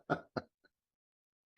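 A man gives two short, close coughs in quick succession, followed by a small faint click and then quiet, with no talking.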